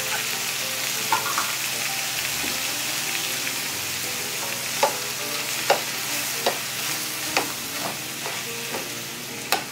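Shrimp cook in a pan as coconut milk is poured in, a steady bubbling sizzle punctuated by sharp pops and spoon clinks against the pan.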